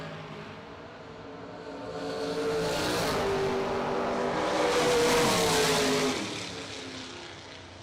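Drag racing cars roar off the starting line at a bracket event, engines swelling in a broad rising drone that peaks midway and eases off as they pull away down the strip.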